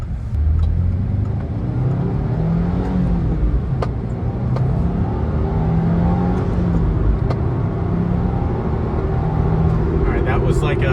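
A Subaru WRX turbo engine revs loud and close, launching hard from a standstill toward 60 mph, its note rising and falling through gear changes over steady engine roar, with a voice speaking over it.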